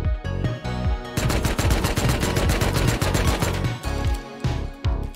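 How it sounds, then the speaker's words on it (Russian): Rapid automatic gunfire in a video game, bursts of sharp, loud shots fired at a turret, with brief pauses between volleys and no talking. "В турель один выстрел."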